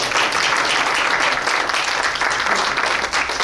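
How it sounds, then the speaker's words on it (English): A large audience gives a round of applause at a heart-health event, steady dense clapping filling the whole stretch at full volume with no break. "Ladies and gentlemen, let's give them a round of applause"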